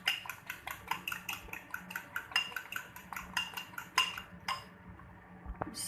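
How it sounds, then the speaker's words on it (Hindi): Eggs whisked in a bowl for an omelette: rapid, rhythmic metallic clinks of a utensil against the bowl, steady and close, stopping near the end with one last tap. "अंडा जितना अच्छा फेंटा होगा उतना अच्छा ऑमलेट बनेगा इसका।"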